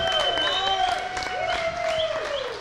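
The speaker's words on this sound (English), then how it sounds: "Can we also get a big round of applause for Eddie Holland?" Applause and cheering for an organizer at an Age of Empires III LAN grand final: crowd clapping under rising and falling whoops and raised voices, lively and moderately close throughout.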